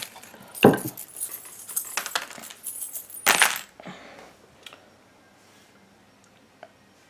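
Tarot cards being drawn and handled: a few close, sharp card snaps and shuffling flicks near the start and middle, then quieter, sparse rustles trailing off into near silence.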